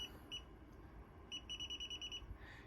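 A home security alarm keypad beeps faintly after arming, sounding a pair of quick high tones, then a rapid run of about a dozen evenly spaced beeps over a low background hum.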